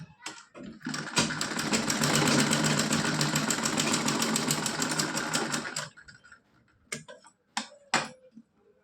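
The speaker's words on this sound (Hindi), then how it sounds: "यहाँ पे डबल सिलाई लगा लेनी है" A sewing machine runs in one sustained burst of about five seconds, sewing a double line of stitches on a small Laddu Gopal kurta, followed by a few short clicks and taps as the fabric is handled.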